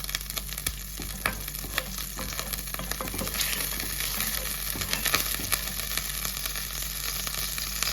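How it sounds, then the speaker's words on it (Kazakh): Butter melting in a pan over low heat, a close, steady sizzle and crackle with fine popping that holds constant throughout, no voices. "табамызға осы сары майымызды саламыз, баяу отта осылай ертіп алатын боламыз"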